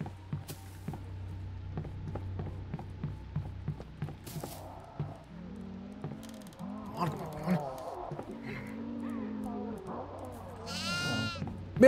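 A goat bleats from the horror video game Devour, several wavering calls in the middle of the clip, over rhythmic clicking footsteps and game noise, with players talking throughout.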